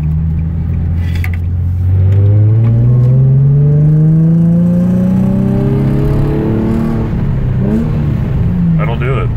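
A Nissan 350Z engine revs hard while drifting, its pitch climbing steadily then wavering as the throttle is worked, loud and close with tire and road rumble underneath and voices talking over it.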